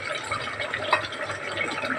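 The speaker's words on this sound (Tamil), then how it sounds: "இப்போ வந்து தண்ணி ஊற்றிடலாம்" Water pours into a pot of mutton kurma, a soft, steady splashing and trickling heard up close and fairly quiet, with a slightly louder splash partway through.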